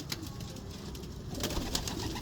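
Pigeons kept in a loft coo softly and steadily, a low murmuring throughout at a moderate distance, with faint rustling and no talk.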